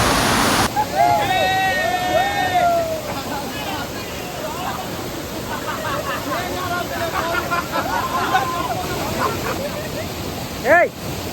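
Water pours steadily over the rocks at Velliyamparamb waterfall in Kannur, a continuous broadband rush that fills the whole scene, with voices and a few higher calls or chirps rising above it.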